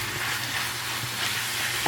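Steak and onions fry in a hot pan with a steady, close sizzle, joined by faint stirring now and then, with no voices.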